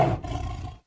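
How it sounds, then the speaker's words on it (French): A sabre-toothed tiger sound effect: one loud, deep, rough roar lasting under a second that cuts off abruptly into silence. "tout à coup j'ai entendu un rugissement terrible derrière moi"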